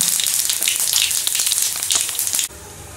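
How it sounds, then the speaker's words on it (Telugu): Green chillies with cumin and mustard seeds fry in oil over a low flame, crackling and popping densely up close before the sizzle cuts off abruptly and drops to a low murmur. "ఇవి ఒక నిమిషం అంతసేపు మనం కొంచెం ఇట్ల నూనెలో వేపుకోవాలి"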